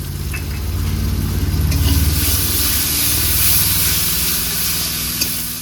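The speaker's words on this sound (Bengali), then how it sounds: "এবার আদা রসুনের পেস্ট দেবো" Ginger-garlic paste fries in hot oil, a loud, continuous sizzle with rhythmic scraping as it is stirred in the pan, no talking.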